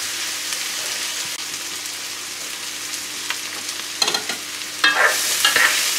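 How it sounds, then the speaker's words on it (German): Wild boar leg roasts in a pan with a constant soft sizzle and crackle, with occasional louder bursts of spitting and stirring toward the end, no talk. "So, es ist jetzt hier nur ganz leicht geröstet."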